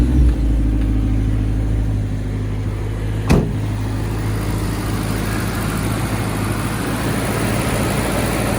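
A Suzuki Sierra with a swapped-in M18A engine idles close by in a steady, even rumble, broken once midway by a single sharp click.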